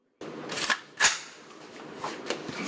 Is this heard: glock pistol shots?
yes